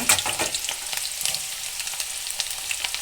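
Onions sizzle in hot oil with mustard seeds for an okra stir-fry, a steady bright crackling hiss with small pops throughout, close and alone.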